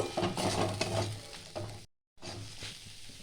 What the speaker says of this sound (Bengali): এটা 3 থেকে 4 মিনিট আমি ভালো করে এটা ভেজে নেব।